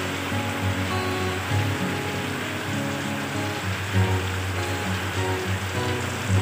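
Heavy rain pouring at a roadside meatball soup stall in the late afternoon into evening, a steady dense hiss under a low mechanical hum, continuous and fairly loud throughout with no talk.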